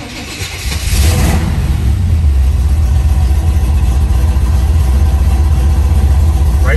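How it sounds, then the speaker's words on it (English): A 1970 Chevrolet Camaro RS Z/28 is started up, then settles into a loud, steady low rumble from its engine at close range, running continuously without talk. "And I'm gonna fire up this car so you guys can"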